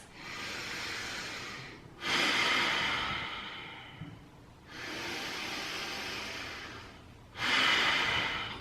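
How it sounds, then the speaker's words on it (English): Slow, deep breathing in and out during a calm mindfulness exercise, long airy breaths close to the microphone with short pauses between them, no talking. "Deep breaths in. Long, calm breaths out."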